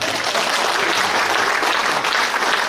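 Dense, steady applause from an audience at a Korean policy forum on education and regional decline, filling the whole stretch loudly and evenly with no talk over it.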